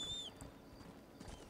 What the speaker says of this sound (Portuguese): Vou tentar chamar o meu cavalo.